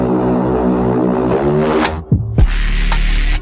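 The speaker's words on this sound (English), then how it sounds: "so this is a Reese line" A detuned Reese bass line synth programmed in FL Studio drones thick and loud with wobbling, phasing low harmonics, shifting pitch near the end with a brief gap before the sustained bass returns.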